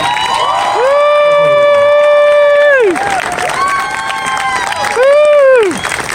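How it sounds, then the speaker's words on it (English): At a Solidarity Walk gathering honouring Dr. Cephas Archie, loud, sustained cheering voices rise and fall in long, wavering howls, close and dominant, with a crowd murmuring underneath. "And I think we just need to give him a round of applause."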